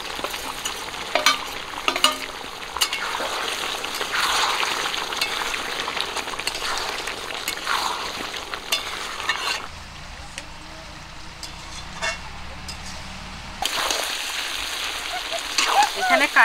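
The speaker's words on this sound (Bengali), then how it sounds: "এবারে দিয়ে দিচ্ছি ভেজে রাখা আলু" Fried potatoes are stirred into a chicken and jackfruit curry, sizzling and frying steadily with scraping stir strokes close by. The sizzle drops briefly partway through and then returns.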